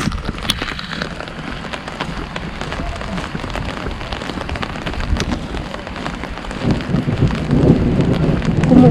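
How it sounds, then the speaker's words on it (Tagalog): Heavy rain falls steadily outdoors in a province in the Philippines, with rumbling thunder swelling louder toward the end. Wind and a faint voice sit in the background. "Naririnig niyo yung kulog? Grabe, lakas ng kulog."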